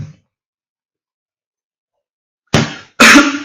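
Two sharp coughs from a person with a cold, close and loud, coming quickly one after the other after a long silence.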